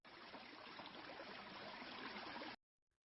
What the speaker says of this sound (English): And then we got the water sound.